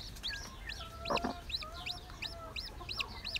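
Newly hatched Ameraucana chicks peep in a steady series of high chirps, close and fairly faint, with a soft lower cluck from a hen partway through.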